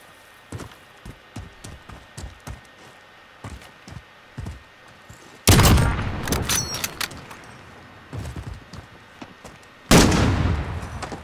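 Automatic rifle fire in a Modern Warfare gunfight match: loud, sharp single shots in a quick run, then two dense, roaring bursts of sustained fire that drown out everything else.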